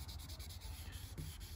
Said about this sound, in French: tu ponces avec de l'eau jusqu'à ce que ça parte